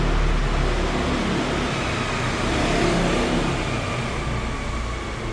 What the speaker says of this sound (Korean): 오토바이 지나갈 때까지 기다렸습니다